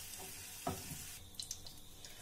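Bell peppers frying in oil in a pan and being stirred, with a soft sizzle and a distinct stir scrape near the start, then quieter clinks and sizzling.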